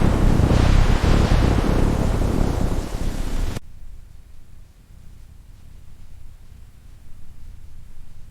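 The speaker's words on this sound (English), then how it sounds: "This wind is relentless." Strong wind roars and buffets the microphone at a rainy plains campsite, loud and broadband for several seconds before cutting to a much quieter, steady rushing.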